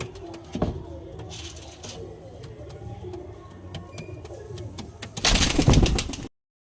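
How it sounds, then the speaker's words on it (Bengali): A moulting pigeon coos in low, repeated phrases among other birds, with a louder burst of noise near the end. "মল্টিংয়ে আছে পায়রাটা"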